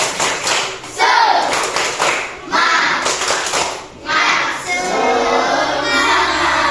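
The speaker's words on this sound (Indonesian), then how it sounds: "Tepuk semangat." Third-grade schoolchildren in a classroom perform a patterned group clap, bursts of rhythmic hand claps separated by short pauses, with children's voices mixed in and loud up close.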